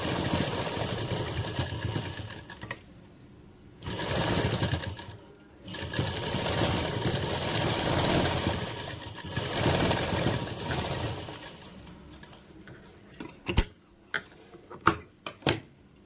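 A sewing machine stitches lace onto a lehenga blouse, running in steady bursts with short pauses between seams, then ending in a few sharp clicks and taps near the end.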